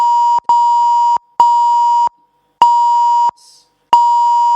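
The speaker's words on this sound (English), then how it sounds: "Beep beep beep beep beep beep beep." A sequence of loud censor bleeps: a steady pure tone repeated in several long pulses with short gaps, clean and isolated, with no talk underneath.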